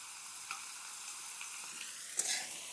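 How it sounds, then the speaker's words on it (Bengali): Potatoes and brinjal frying together in a pan, a faint, even sizzle with a few soft stirring clicks and one sharper scrape near the end. "এভাবে আলু বেগুন একটু এর সঙ্গে ভেজে নেব"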